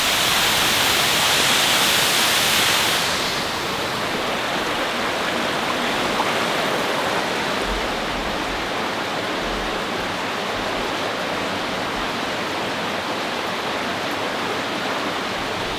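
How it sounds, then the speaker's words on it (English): Steady rushing of water flowing out of a hillside cave in Tennessee woodland, a constant broadband roar close by with no talk, slightly brighter for the first few seconds. "we got water popping out of the side of the hill and then disappearing"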